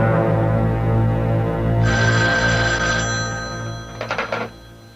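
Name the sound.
telephone ringing in an office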